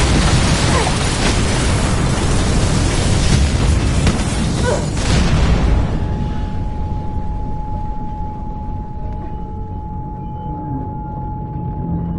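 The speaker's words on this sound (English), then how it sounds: "Big explosion over here!" A huge in-game explosion in Mirror's Edge Catalyst erupts as a loud, broadband boom, then fades into a long deep rumble with a steady tone ringing underneath.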